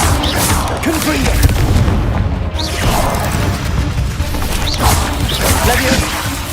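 Confringo fire-blast spell cast in the Hogwarts Legacy video game: booming, crashing bursts and swooshes that run continuously through dense combat sound, with no clear pause.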